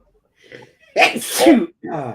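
A single sharp, close sneeze follows a faint breath intake, then a voice speaks briefly.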